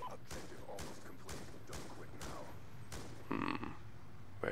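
Rapid bursts of gunfire in Call of Duty Black Ops 2, a fusillade of repeated shots in a steady rhythm lasting several seconds, with a louder burst near the end.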